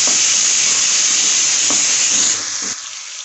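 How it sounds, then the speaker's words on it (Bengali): Ginger-garlic paste frying in hot oil for ghugni, a steady broad sizzle and hiss that fades and thins toward the end, with no voices. "আদা রসুন বাটাটা ভালো করে ভেজে নেব।"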